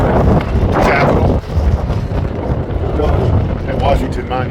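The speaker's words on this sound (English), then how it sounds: "so you can see that it's getting really windy" Strong wind at the Washington Monument buffets the microphone with loud, continuous low rumbling gusts, roaring steadily with a brief dip partway through and faint voices underneath.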